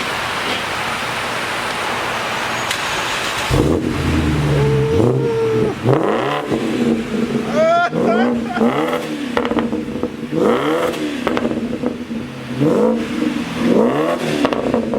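A powerful V8 engine in a BMW E60 550i with the muffler deleted starts and revs repeatedly in sharp bursts, each rising and falling roar loud and close, with a rough, throaty idle between.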